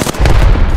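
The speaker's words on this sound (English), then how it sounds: "I'm getting shot by another team." Rapid gunfire from an online multiplayer shooter match, loud and dense, a burst of shots and booms filling the short moment without talk.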